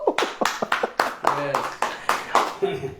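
Audience at a Christian sermon gathering claps hands in a rhythmic series of sharp, evenly spaced claps, about a dozen beats, fairly near and loud, with voices mixed underneath.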